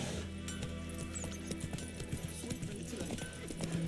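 Horse hooves clip-clop on the ground in the video game Witcher 3, a quick, uneven run of steps heard up close over a low, busy background.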